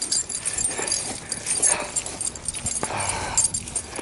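A nice pet dog on a walk, making short whimpering and snuffling sounds close by over steady background noise, with no talking.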